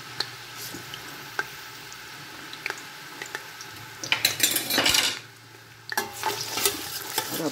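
Onions fry in hot oil, a constant close sizzle broken by scraping, clinking strokes of a spoon stirring against the pot, with a louder burst of stirring midway.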